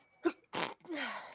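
A single person sneezes nearby, a sharp inhaled catch followed by a loud burst and a trailing breathy exhale.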